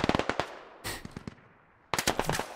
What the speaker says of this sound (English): Grenade hits Blue Jericho.